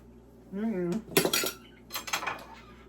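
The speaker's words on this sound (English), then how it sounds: "Let me get a nice teaspoon for this." Metal cutlery clinks and rattles close by as a teaspoon is pulled out, several bright bursts of jangling with a brief hum of voice at the start.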